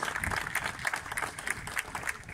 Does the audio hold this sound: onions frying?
no